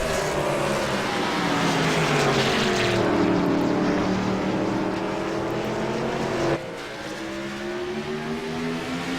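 Race car engines roar loudly as cars power through the turns, pitches sweeping and shifting with a sudden drop in level partway through, no voices.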